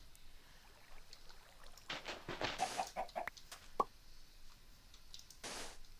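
Chickens cluck in a video game, several short scattered clucks and a sharper squawk amid quiet ambient background, moderately close but soft overall.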